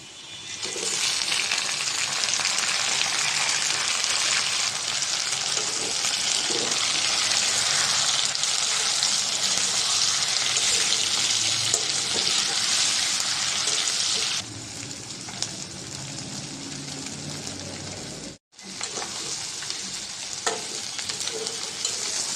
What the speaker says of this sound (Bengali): তো চিংড়ি মাছটা লাল লাল করে ভেজে নিয়েছি, ভাজা হয়েছে।